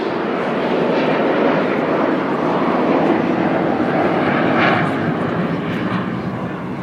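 An Avro Vulcan bomber passes in front with its bomb bay doors closing, a steady loud roar of jet engines filling the air throughout without a break.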